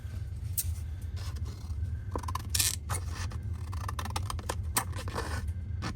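A small pair of old junk-shop scissors being tested, giving a series of quick, close snips and crisp metallic scrapes spaced irregularly over a low background hum, with no talking.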